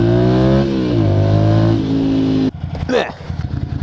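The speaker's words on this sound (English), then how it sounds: "Oh, you're scared of motorcycles? They're too loud." A loud motorcycle engine revs hard, its pitch climbing and stepping through several surges for about two and a half seconds before cutting off abruptly, then a voice speaks over lingering rumble.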